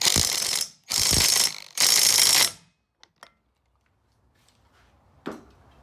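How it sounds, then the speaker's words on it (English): An impact driver with a 7/8 socket tightening a nut on a 1980 Chrysler Sea King 15 outboard: three loud, close, rapid hammering bursts, each about a second long, then a few faint clicks and one short knock. "I got my 7/8 on my impact driver right here. Just nice and tighten it."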